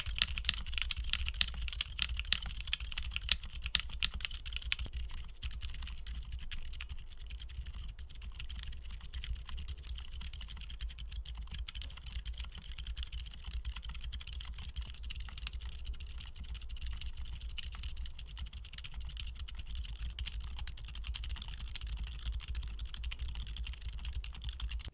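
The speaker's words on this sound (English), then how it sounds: "Now, here are the back-to-back sound tests for all the switches we just talked about." Muted typing on keyboards fitted with different silent tactile switches, Akko Penguins among them, played one after another as a long, even stream of soft keystrokes. The sound stays fairly loud, with no speech over it.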